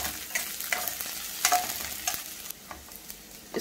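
Onions frying in a pan for green chilli brinjal give a soft, steady sizzle near at hand, broken by a series of light scraping and clicking stirs scattered through it.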